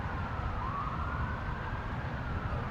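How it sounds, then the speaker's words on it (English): An emergency vehicle siren wails somewhere in Asheville or Black Mountain, North Carolina, its rising sweep fairly faint and distant beneath steady road noise, with no one talking. "Sirens, I know."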